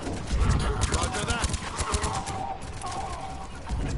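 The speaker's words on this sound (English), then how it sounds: "That's a grenade." A grenade explosion in the Mass Effect 3 video game sits among a dense clatter of rapid gunfire and sharp impacts during combat, loud and busy throughout.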